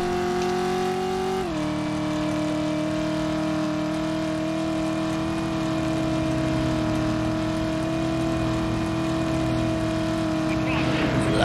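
Car engine in the Driver: You Are the Wheelman video game, a continuous tonal drone that shifts in pitch early on, then holds steady and loud, with faint game noises over it.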